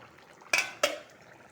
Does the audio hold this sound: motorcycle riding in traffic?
no